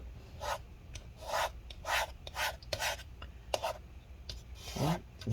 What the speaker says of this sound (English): scrape up all the adhesive residue